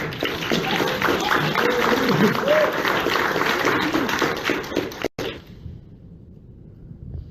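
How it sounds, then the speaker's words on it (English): A church congregation claps by hand during a sermon, a dense, lively wash of clapping mixed with voices and chatter that cuts off abruptly near the end, leaving near silence. "Give me some hand clap."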